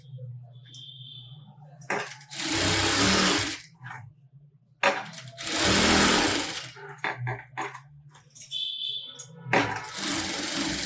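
Sewing machine stitching fabric, several bursts of a few seconds each with rapid steady whirring and short quiet gaps between runs, fairly close and alone.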